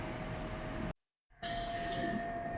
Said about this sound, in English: the train was heading towards Tarikere station after crossing Tipturu, Arasikare, Kadur, Birur to reach Tarikere